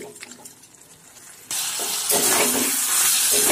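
Vegetables and spices fry in a pan with gourd stems, bottle gourd, carrot and eggplant. Quiet kitchen noise gives way to a sudden loud, steady hiss and crackle.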